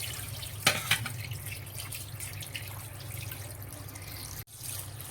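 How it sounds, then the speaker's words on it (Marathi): Water is poured over raw chicken with salt to wash it: a couple of brief splashes near the start, then a faint, steady trickle of water in a quiet kitchen. "मी धुवायला पाणी टाकून 5 मिनिटं ठेवणार आहे"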